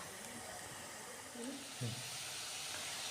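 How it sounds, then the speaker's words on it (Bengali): Potato pakoras frying in a pan of hot oil give off a faint, steady sizzling hiss throughout, with a couple of slightly louder bubbling swells partway through. "এবার এটাকে আস্তে আস্তে একটু হালকা লাল করে এটুকুলোকে ভেজে নেব"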